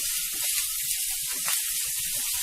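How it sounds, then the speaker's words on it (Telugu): Asafoetida and curry leaves frying in hot oil as a tempering, a steady close sizzle and hiss with faint crackles, no voices. "ఇవి వేగిన తర్వాత చిటికెడు ఇంగువ, కరివేపాకు వేసుకొని వేయించుకోవాలి."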